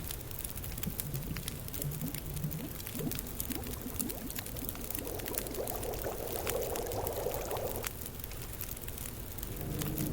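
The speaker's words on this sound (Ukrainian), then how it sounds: "скип'ятити води" Water pours into a pot to boil in The Long Dark video game, a steady splashing flow over a constant crackling background with a brighter gurgling stretch partway through.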